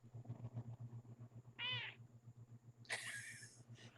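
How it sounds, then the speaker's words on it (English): Two cats meow one after another, a short mew followed by a longer, higher cry, over a steady low hum and faint background murmur. "random cats talking"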